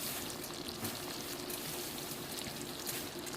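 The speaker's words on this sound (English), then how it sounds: "And my beans are bubbling away." A pot of red beans simmers on the stove, giving off a soft, continuous bubbling and faint sizzle, fairly quiet and steady with no voices.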